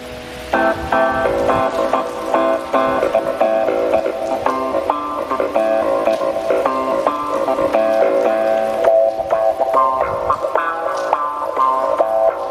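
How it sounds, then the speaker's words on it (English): A bright, funky clavinet plays choppy chords with a quacking wah-filtered tone, steady and continuous with no voices. "Let's try the clavs."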